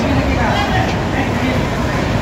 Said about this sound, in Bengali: ঘড়ির কাঁটায় ঠিক 10টা বেজে 56 মিনিট, 1 মিনিট লেটে ট্রেন আমাদের ছেড়ে দিল